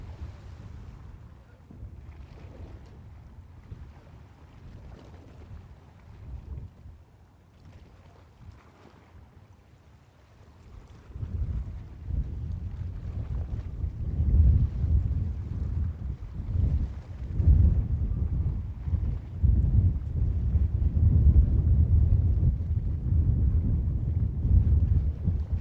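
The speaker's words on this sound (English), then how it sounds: "Once again, Coast Guard sailing in front of Alcatraz." A Coast Guard boat cruises past Alcatraz in San Francisco Bay during a Fleet Week parade of ships, its low engine rumble and water wash swelling louder midway through under steady wind buffeting.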